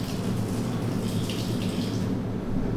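Water rushes steadily from a sink at home as part of it drains off, a loud, continuous close splashing wash that holds throughout.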